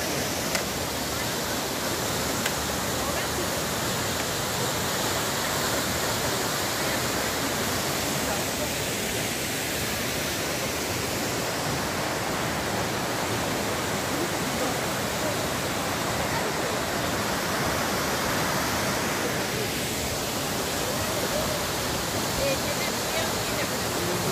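Chhungay waterfall in Neora Valley near Kolakham, a steady, loud broadband rush of falling water that fills the whole stretch without pause, with faint voices barely showing beneath it.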